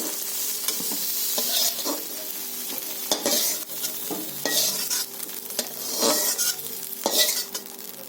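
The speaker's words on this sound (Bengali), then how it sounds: "তো বন্ধুরা সিম আর বেগুন আমার ভাজা হয়ে গেছে" Flat beans and eggplant frying in a pan, with loud close sizzling broken by repeated scraping strokes of a spatula against the metal pan, no voices.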